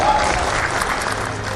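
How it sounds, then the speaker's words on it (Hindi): An audience at a motivational speaking event clapping together, a loud, dense, continuous round of applause that holds steady from start to finish. "मैं कहता हूं एक बार जोरदार तालियां उस परमपिता परमेश्वर के लिए हो जाएं"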